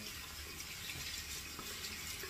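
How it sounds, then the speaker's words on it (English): A steady, close rush of water runs from a tap to rinse lather out of a tub, an even broadband flow with no pauses. "I gotta rinse that tub."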